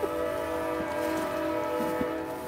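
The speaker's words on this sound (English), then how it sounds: "There's a train." A train passes nearby, its long steady horn tone droning at a constant level throughout, with a few faint knocks underneath.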